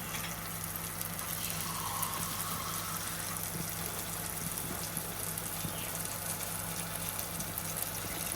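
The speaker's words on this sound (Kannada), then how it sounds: "ಸ್ವಲ್ಪ ನೀರು ಹಾಕುವ." Water poured steadily into a pan of bangude pulimunchi, a tangy mackerel curry, making a continuous splashing rush at close range with a low electrical hum underneath and no talking.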